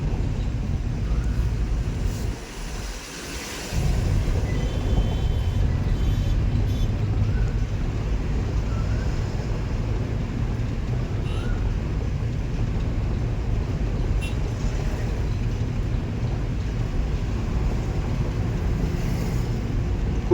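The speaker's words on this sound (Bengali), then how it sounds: "গাড়ি স্লো করো একটু ক্লাচ আবার ক্লাচ ছাড়ো অ্যাক্সিলেটার দাও" Car engine and road noise on a main road during a driving lesson make a steady, close, low rumble inside the cabin that runs the whole length, with a brief dip early on.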